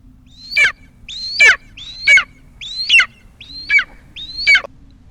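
A bird calls six times in a steady rhythm, each a short rising note followed by a harsh downward squawk, clear and fairly close.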